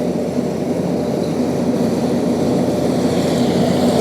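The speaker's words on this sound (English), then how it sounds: "So my dad's running the trencher at the minute." Bruff BT4 trencher digging a main field drain on a farm, a loud steady diesel drone with gritty churning texture throughout, nearby and with no talking.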